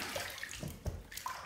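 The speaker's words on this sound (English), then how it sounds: "Let's rinse." Water runs steadily from a tap while a razor, a Classic Samurai CS 204, is rinsed under it, a close, continuous splashing wash with small sloshing bursts.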